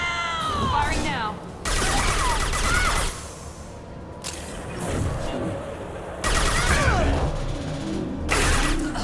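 Weapon fire crackles in several bursts during combat in Mass Effect 2, mechanical rattling shots clustered with short pauses between volleys, while a voice speaks at times.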